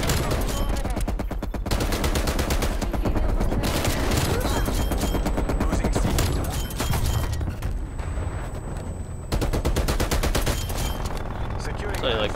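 Automated sentry gun blazing in Call of Duty: Cold War multiplayer: loud, dense, continuous rapid fire layered with other gunshots and booms, barely pausing throughout.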